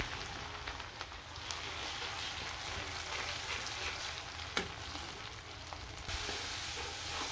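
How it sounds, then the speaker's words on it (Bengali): Chilli, turmeric and coriander powder frying in oil, a close, steady hissing sizzle with crackling and a clink of a spoon stirring, no talking. "তেল দিয়ে দিলাম মরিচ হলুদ ধনিয়া গুঁড়া দিয়ে মশলাটা খুব সুন্দরভাবে কষিয়ে নেব"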